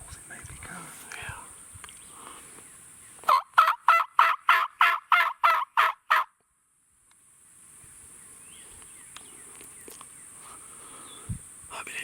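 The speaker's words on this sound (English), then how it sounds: "Coming, 2 gobbles, it may be coming." Wild turkey gobbling in the Alabama woods during a hunt: a run of about nine rapid, loud gobble notes in a burst, set against quiet ambience with faint whispering before and after.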